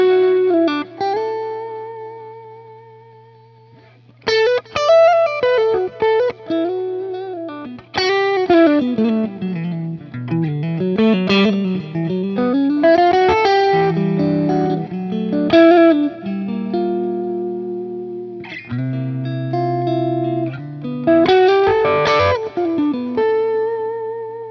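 Electric guitar played through a Helix Fender amp model with a tube screamer in front, a lightly driven tone with chords and single-note lines, alone and steady, with brief gaps between phrases.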